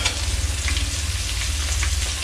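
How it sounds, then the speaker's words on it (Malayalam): Chopped shallots and ginger-garlic paste fry in hot oil for a Kerala-style country chicken curry, a steady close sizzle with faint stirring scrapes and a low background hum throughout, no talking. "ചെറിയ ഉള്ളി അരിഞ്ഞത് കൂടെ ഇഞ്ചി വെളുത്തുള്ളി പേസ്റ്റ് കൂടെ ഇട്ടിട്ട്"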